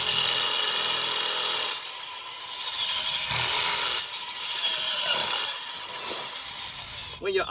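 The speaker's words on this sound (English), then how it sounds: "When your auger starts stalling like that, that means it's got some roots wrapping around it, and it's pulling them up." An auger bores into soil in a deck fruit-tree planting container, grinding and rubbing steadily as roots wrap around it and slow it, with a brief rattling burst at the end.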